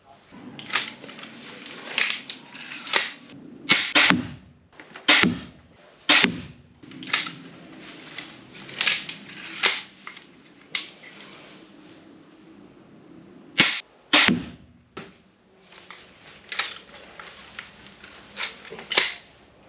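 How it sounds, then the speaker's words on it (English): A multi-shot tactical crossbow fires bolts in a series of sharp, loud snapping releases with mechanical clacks between them, irregularly spaced across an outdoor test with quiet gaps. "When all the bolts have been fired, and you try and cock it, it won't allow you to."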